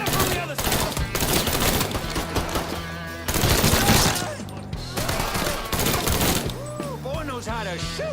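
Rapid bursts of gunfire from a Mafia 3 firefight crackle nearly nonstop for eight seconds, dense and loud, with shouted voices and game music weaving through the shots.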